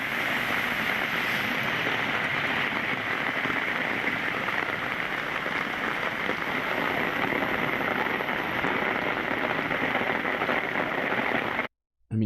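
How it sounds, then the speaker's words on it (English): Hail pours down during a hailstorm in Poland, a dense, loud, steady rattle and hiss that continues unbroken for about eleven seconds before cutting off abruptly. "Now, the hail is not as big as the hail that was in Colorado, but this is still wild to be happening in Poland."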